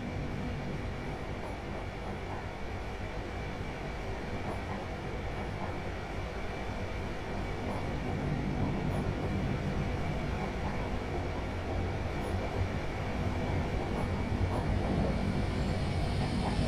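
An empty passenger train in Train Sim World 5 rolls steadily along the rails, a continuous close rumble and hiss that swells slightly louder toward the end, with no voices.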